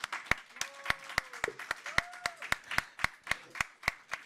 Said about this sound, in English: I would also ask you for a round of applause for all our panelists